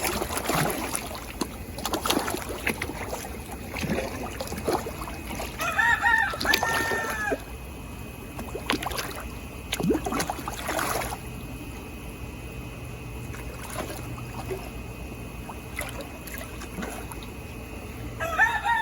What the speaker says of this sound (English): we've got the roosters making noise in the background